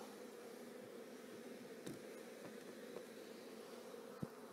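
Agitated honey bees around an open hive during a first inspection, a faint, continuous droning buzz with a few soft knocks and taps.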